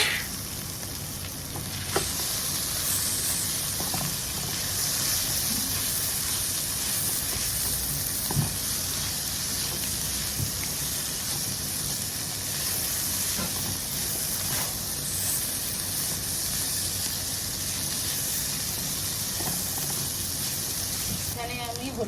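Dry shrimp and mixed vegetables fry in a pan with coriander powder, giving a steady, close sizzle with occasional stirring scrapes throughout, and no talking over it.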